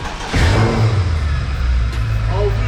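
A 2018 Mercedes-Benz S63 engine revs once in a short, close burst and then settles to a throaty idle, with a voice heard over it.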